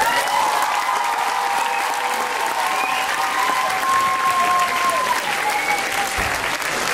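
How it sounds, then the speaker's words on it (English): A concert audience gives a final round of applause for a school performing arts department: loud, continuous clapping with a few cheers or whistles mixed in, and no one speaking. "Ladies and gentlemen, one last round of applause for our amazing Performance Arts Department."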